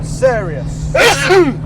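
Single abrupt sneeze inside a 1968 Dodge Charger R/T with a 7.2L big block V8, close and loud, alongside brief speech and a low engine idle hum underneath.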